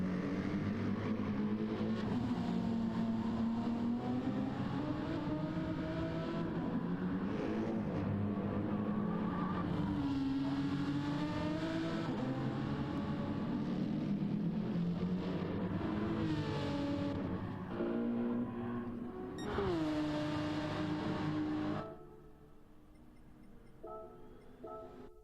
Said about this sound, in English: one other driver out, which is NYC Joecast, who's just coming round to the final bend with in his Lamborghini